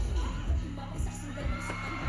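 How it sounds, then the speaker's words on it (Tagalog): A crowd at a live music performance at Escolta shouts and cheers, a dense wash of yells and whoops with bursts of louder screaming, heard from within the audience. "Sigawan tao eh."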